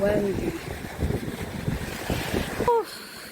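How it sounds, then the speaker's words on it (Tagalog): Strong wind at the sea along a beach roars and buffets the microphone in a loud, continuous rush with gusty swells before cutting off near the end. "It's very windy also."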